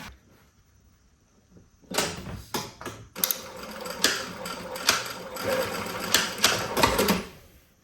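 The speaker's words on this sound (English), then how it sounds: "then we can sew the edges" A sewing machine stitches the edges of a fabric make-up bag, running in several close, loud bursts of mechanical whirring with short pauses between them after a quiet opening.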